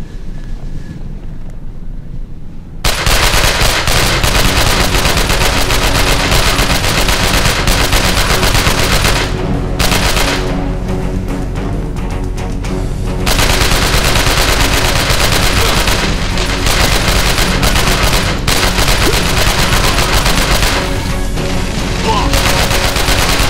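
Gunfire in the video game Chernobyl Commando while driving: a dense, loud, continuous roar of rapid automatic shots layered over engine and wind noise, running almost unbroken after a brief quieter opening.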